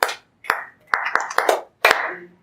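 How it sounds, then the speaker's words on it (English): During a Nigerian video and skit production class, a few people clap close by in loose, uneven unison, giving sharp, ringing claps in short bursts with brief silent gaps between them. "I say a round of applause for him."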